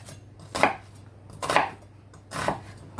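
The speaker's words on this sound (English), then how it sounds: "I'm going to do is cut into the onion as far up to the root as I can." A sharp knife cuts into an onion on a board in a home kitchen while preparing curry, giving three separate crisp chopping strokes spaced about a second apart, close and clear with no talking.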